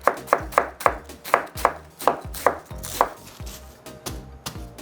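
A knife chopping a quarter cabbage into long strips on a cutting board, about a dozen crisp, evenly spaced thuds at close range, slowing and softening toward the end, no talking.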